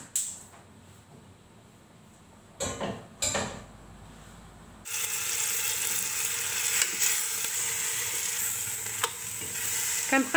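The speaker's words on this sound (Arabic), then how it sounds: "حتى كيتقلى مزيان داك الدجاج مع البصله وكيتحمر شويه" Chicken and onion frying in a pot and being stirred: a few quiet scrapes at first, then the sizzle grows loud and steady, with occasional clinks of the spoon.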